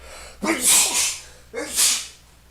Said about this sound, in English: that was a terrible sneeze.